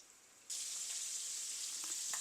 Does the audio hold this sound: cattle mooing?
no